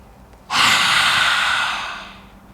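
A person doing a breathing exercise lets out one forceful exhale after a nose inhale, a loud close rushing breath that starts abruptly and fades over about two seconds, with no talking.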